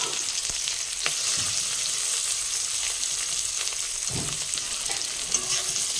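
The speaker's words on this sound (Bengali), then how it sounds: "পেঁয়াজটা একটু লাল লাল করে ভেজে নেব।" Onion fries in hot oil in a wok with a steady sizzle close by, and a spatula stirring through it in soft scrapes and a few knocks, with no voices.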